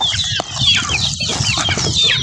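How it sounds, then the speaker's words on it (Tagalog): Backyard chickens being fed leftover cooked rice cluck and chatter busily up close, with a brief flutter of wings amid the steady noisy flock. "Pinapakain ng aming mga manok"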